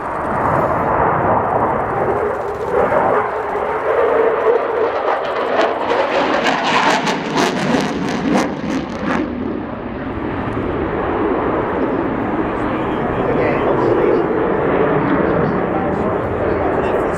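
RAF Typhoon FGR4 jet pulling a tight, high-G turn at an airshow, a loud continuous engine roar that swells and crackles over many seconds, with a commentator talking over it.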